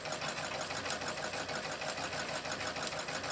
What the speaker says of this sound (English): I'm just going to go ahead and pretty nearly fill this bobbin.